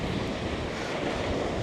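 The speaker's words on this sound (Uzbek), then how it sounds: "Masalan, mana to'lqin olib ketyapti plyajga qarab" Ocean waves wash onto a beach in Salalah, Oman, making a steady, close, broad roar of surf mixed with wind buffeting, with no voices.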